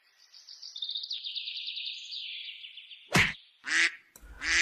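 A cartoon goose honks and squawks as it attacks, starting with a long, wavering nasal call and then breaking into three sharp, loud honks close by, with no talk.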